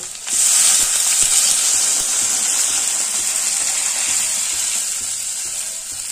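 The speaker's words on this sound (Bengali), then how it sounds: "এবার পরিমাণ মতন জল দিয়ে দেব।" A sudden loud rush and hiss as water hits a hot pan of fried potatoes, settling into a steady, bubbling sizzle that fades slightly toward the end.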